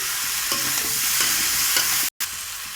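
Raw green banana pieces for a fish curry are stirred in a pan of hot oil, giving a loud, continuous frying hiss with a brief break in the sound partway through.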